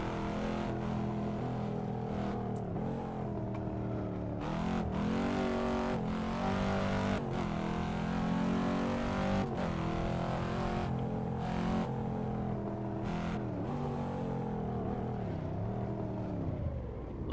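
A Honda S2000 in a touge racing game, its engine revving hard through the gears with repeated climbs in pitch, brief lifts between shifts, and a steady, continuous drone.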